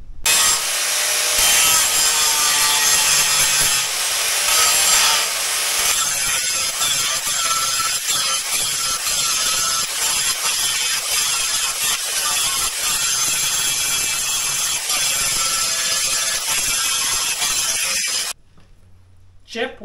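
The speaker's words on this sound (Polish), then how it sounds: "Mamy fleksa starszy do szlifowania. I szlifujemy dziada." An older angle grinder grinds the end of a motorcycle exhaust pipe for a Loncin 110/125, a steady harsh abrasive rasp that runs continuously and loudly for most of the clip before cutting off near the end.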